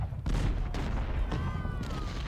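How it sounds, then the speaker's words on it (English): Artillery bombardment in the Civil War video game Ultimate General: Civil War: several sharp booming shots in quick succession over a continuous battle rumble, no talking. "I can bombard their position with my artillery"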